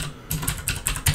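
Quick keystrokes on a computer keyboard, a few crisp clicks in uneven rhythm, close and clear, with no talking, while editing Mordhau game-mode settings.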